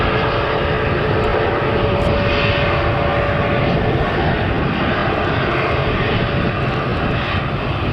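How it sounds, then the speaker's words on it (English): An Air Transat airliner at Manchester Airport turns from the end of the taxiway onto the runway, its engines producing a steady, loud, continuous roar that holds unbroken throughout, with no voices over it. "The air transat has reached the end of the taxiway, it's just beginning its turn to get onto the runway."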